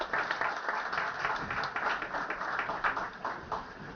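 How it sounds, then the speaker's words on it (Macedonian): A conference audience applauds in a dense, continuous burst of many hands clapping, fairly loud and even across the few seconds, with no clear speech over it. "Инак може аплауз за поддршка."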